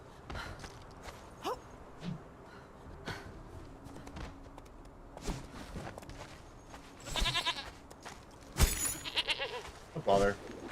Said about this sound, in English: What, a goat? Yep, a goat followed me.